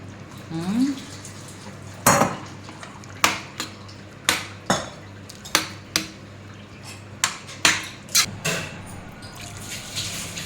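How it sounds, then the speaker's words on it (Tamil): Boiled moong dal is poured into a pot of Tirunelveli-style sothi curry, with about a dozen sharp metal clanks from a ladle and vessel spaced irregularly over soft liquid sounds, close and fairly loud. "இப்போ வந்து நான் பாசி பருப்பு அவிச்சு வச்சுருக்கேன்ல அதை ஊற்றுறேன்"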